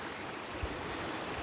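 Water churns at a waterfall pool, a steady broadband rush filling the short moment without pause or voices.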